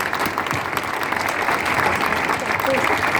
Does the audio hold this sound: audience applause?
yes